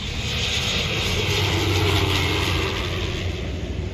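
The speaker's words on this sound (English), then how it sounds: "Loncair LX-7 turboprop long landing and runway departure resulted in a collision with a car" A Lancair LX-7 turboprop airplane on a long landing that ran off the runway, heard as a continuous, loud engine drone and propeller roar that stays steady, with no talk over it.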